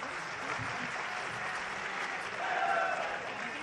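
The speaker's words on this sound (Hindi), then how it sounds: "आपका भी एक बार ताली बजा के स्वागत करें।" An audience at a silver jubilee ceremony in Pushkar, Rajasthan claps steadily to welcome a chief minister, a dense continuous round of applause with no talk over it.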